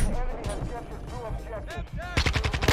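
Automatic gunfire from the Modern Warfare 2 beta video game, loud bursts of rapid shots in close, dense clusters that intensify toward the end, layered over game effects and occasional speech.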